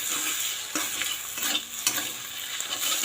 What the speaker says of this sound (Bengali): এই যে ডিম ভাজতে বসিয়েছি।